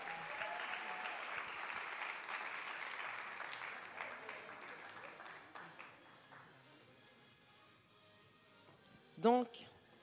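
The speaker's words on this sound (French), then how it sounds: "On applaudit les dames qui vont monter." An evening awards gala audience applauds as women walk up onto the stage, the clapping dense at first and then thinning out, with a short burst of voice or noise near the end.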